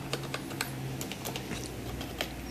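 Rapid clicking keystrokes on a Cooler Master Devastator II gaming keyboard, a steady patter of close, crisp key taps with no talking.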